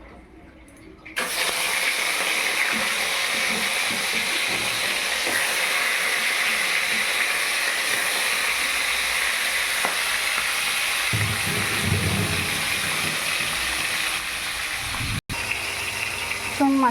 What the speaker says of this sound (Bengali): এবার মাছের মাথাগুলো এক এক করে আমি ভেজে নেব।